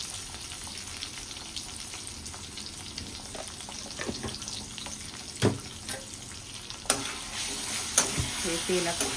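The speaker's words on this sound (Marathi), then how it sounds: "हे तेलात चांगले परतून घ्यायचे।" Vada pav chutney being sautéed in hot oil gives a continuous soft sizzle, broken by sharp clicks and scrapes of stirring against the pan, with a brief tap-water splash near the end and no speech.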